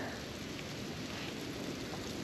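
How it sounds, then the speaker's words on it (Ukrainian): Light hail mixed with rain falls steadily outdoors near freezing, a constant dense patter with no gaps, loud and close, heard alone without voices. "Сніжить, точніше дождіть градом мелким."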